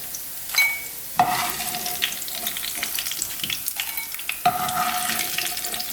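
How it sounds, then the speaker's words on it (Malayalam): Potato pieces fry in hot oil for Potato 65: a loud, continuous crackling sizzle with sharp pops and scraping knocks as they are stirred and lifted out, no talk. "പൊട്ടാറ്റോ ഫ്രൈ ചെയ്തത് ഗോൾഡൻ കളറായിട്ടുണ്ട്."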